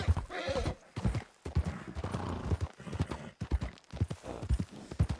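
A horse in the Red Dead Redemption 2 video game clip-clops at a steady walking rhythm, hooves close and distinct, with a whinny and snorting breaths mixed among the hoofbeats.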